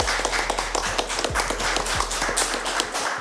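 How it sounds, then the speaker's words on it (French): An audience claps throughout for a guest arriving on a French talk show, with dense scattered clapping and occasional louder slaps in a steady wash. "On peut l'applaudir."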